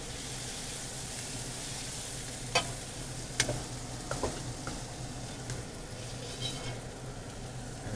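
Beef goes into a pan with onion, garlic, ginger and bay leaf for a ginger beef stew, giving a steady close sizzle with a few sharp clatters of stirring and no talk.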